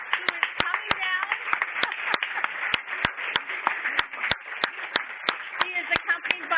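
Scattered applause from a crowd, sharp individual claps at an uneven, lively pace, with voices murmuring underneath.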